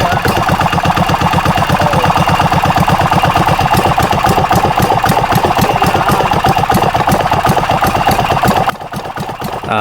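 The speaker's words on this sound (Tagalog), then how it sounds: "subukan natin paandarin kung okay na ang andar niya makina" A small 5 HP diesel engine fitted with a silencer idles close by with a steady, rapid knocking rhythm, running evenly and then dropping slightly in level near the end.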